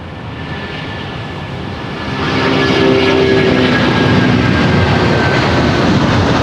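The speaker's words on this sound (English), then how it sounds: "the A330 rolling down runway" An Airbus A330 jet rolls down runway 25 Left at LAX, a broad, steady engine roar that swells louder about two seconds in and holds at a strong, sustained level with a faint whining tone riding above it.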